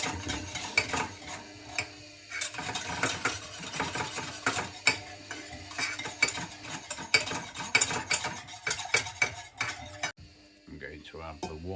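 A utensil stirs milk and sugar in a saucepan, scraping and clinking against the metal in an irregular, busy rhythm close by, then quiets briefly as someone speaks at the end.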